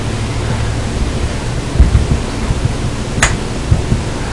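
Tap water runs steadily into an empty can as it is rinsed out in a kitchen, giving a loud, even hiss with a few faint clinks against the metal.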